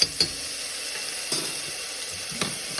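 Minced garlic sizzling in olive oil in a pan, a steady soft crackle with a few sharp scraping clicks of stirring spread across the moment.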